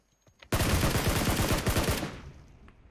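Automatic gunfire in the mobile game PUBG Mobile: a sudden loud, dense burst of rapid shots lasting about a second and a half, up close and without talk, followed by a quick fade.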